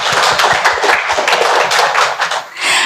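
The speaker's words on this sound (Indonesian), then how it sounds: "Tepuk tangan buat kita semua di sini" Dense applause from an audience at a talk on breast cancer survivors, many hands clapping together in a loud, steady wash that dips briefly near the end.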